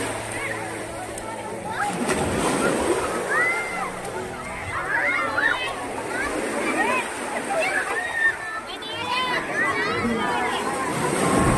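Water splashes and sloshes steadily as people play in it outdoors, under continuous chatter and excited voices close by.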